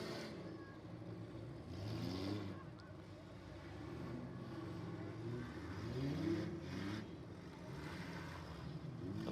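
A Magna hatchback slugging it out in a demolition derby at a speedway, engines revving in distant, uneven surges mixed with faint crowd and arena noise, fairly quiet throughout.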